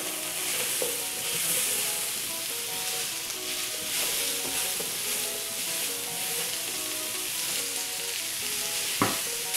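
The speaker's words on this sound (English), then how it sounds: "the carrots, and the celery. And we'll toss this for about 3-4 minutes, just again, soften them up and get some color on them" Carrots and celery sauté in a hot pan with leftover browned fond from short ribs, making a strong, even sizzle with stirring scrapes and tossing, close and continuous, ending in a sharp clank of the utensil.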